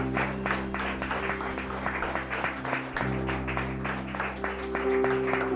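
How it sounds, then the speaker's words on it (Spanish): A church congregation applauds with steady, dense clapping that keeps on for several seconds while a sustained organ or keyboard chord plays underneath. "Un aplauso al Señor."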